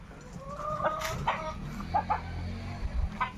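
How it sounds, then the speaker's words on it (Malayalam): Chickens cluck and call in a backyard coop, several short bird calls scattered over a steady low outdoor background, with a brief low thump near the end. "കോഴികളെല്ലാം ഇവിടെ ഉണ്ട്."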